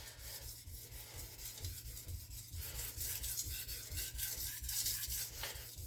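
A knife blade drawn at a very low angle across a sharpening stone, thinning the steel behind the bevel: steady, close rasping strokes repeat continuously with no talking.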